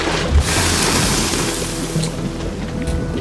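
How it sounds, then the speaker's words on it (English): Acid splashing and sloshing in the video game Unravel, a loud watery surf-like wash with bursts of splashes, continuous and close. "Splashing all over me"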